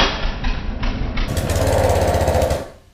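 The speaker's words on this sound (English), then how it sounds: "I gotta fire up the old power washer there." A small gas engine on a pressure washer, choked, sputters to life and settles into a loud, rapid, rhythmic chugging before dying away at the end.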